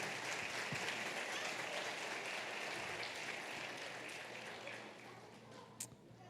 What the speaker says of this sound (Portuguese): Uma salva de palmas nossas crianças então